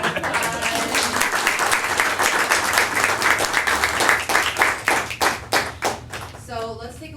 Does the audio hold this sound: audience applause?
yes